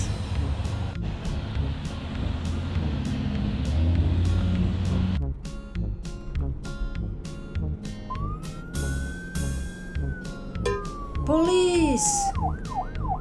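A police siren wails over a busy, rhythmic background, rising and falling in long sweeps, followed by a quicker warbling siren.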